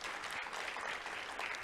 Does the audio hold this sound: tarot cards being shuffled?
no